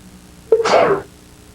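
One sharp sneeze bursts out close by, a quick intake then a loud forceful burst that fades within half a second.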